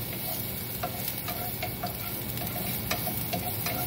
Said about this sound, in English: I'm gonna give it a little stir throughout the pan so the oil spreads out evenly